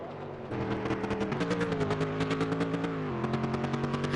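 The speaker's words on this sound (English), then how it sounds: "I hear some engine sound out of it." Race car engine at a Race of Champions event, a steady droning hum with shifting pitch running continuously under the crowd and track noise, moderately loud throughout.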